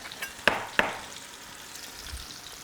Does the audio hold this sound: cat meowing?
no